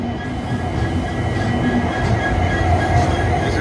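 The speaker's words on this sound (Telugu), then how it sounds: "This is locomotive." Train pulling out of Yeshwanthpur station, a loud close rumble of rolling railcars with rhythmic wheel clatter and faint squeal over the steady drone, no voices.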